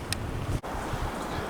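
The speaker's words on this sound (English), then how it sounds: "Like I said, it's windy." Wind blows across an outdoor garden and buffets the microphone, making a loud, continuous low rushing roar with one brief drop partway through and no voices.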